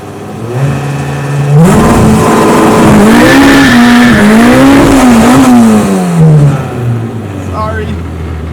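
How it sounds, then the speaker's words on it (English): A car with a Honda K20 engine revs hard with its tires spinning, the engine note climbing and wavering loud and close with a rough, hissy wheelspin edge, then dropping back to idle, while people talk over it. "I couldn't tell if the tires were spinning or if it was spinning the tires."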